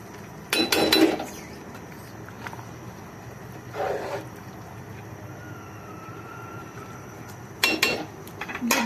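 Mutton pulao being stirred in a cooking pot, with a few loud scraping and clanking bursts of utensil against metal separated by quieter stretches of low simmering background.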